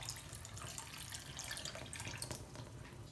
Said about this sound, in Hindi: तकरीबन 3/4 कप के करीब मैं पानी भी शामिल कर लूँगी